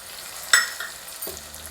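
Brief scrape and sizzle as lemon pickle with chili powder and asafoetida is sautéed in a pan, a couple of short stirring strokes over a quiet background.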